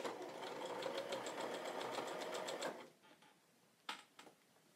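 A sewing machine stitches sweater fabric for mittens in a quick, even run of needle strokes for nearly three seconds, then stops, leaving a few faint handling clicks.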